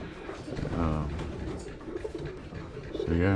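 A racing pigeon cock of Art Martinez and Paul Gomez bloodline coos in soft repeated rolling calls, close by in a quiet loft, with a second cooing phrase at the end.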